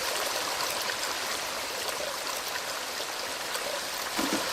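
Water flowing in the video game Drain Sim, at a river reservoir that has broken and is flooding toward a church: a steady, rushing stream with a trickling edge, even and unbroken throughout, with no voices.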